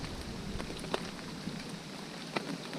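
Heavy rain pours down steadily on an overcast morning beside water, a soft dense patter with occasional louder drops hitting nearby surfaces.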